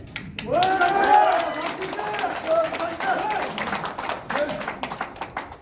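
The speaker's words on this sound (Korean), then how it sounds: "박수가 너무 찬양적이에요." Steady applause from a crowd at a committee candidates' presentation carries on while a voice talks over the clapping.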